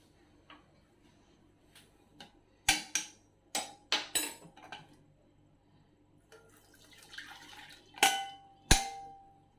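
Cooked food being drained of its water in a home kitchen, heard as scattered clinks, taps and splashes with a soft trickle in the middle, close and fairly quiet.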